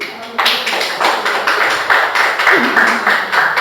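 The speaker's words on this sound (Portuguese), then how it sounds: "Então, aplauso ao Senhor Jesus." A church congregation claps in a steady rhythmic beat during a sermon, loud and close, each clap sharp and evenly spaced, with a voice briefly heard among them.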